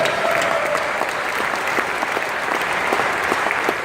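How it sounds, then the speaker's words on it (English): A crowd at the 5th annual Man Up Pittsburgh event claps steadily, with dense, sustained applause and no break for the whole stretch. "Give yourselves a round of applause"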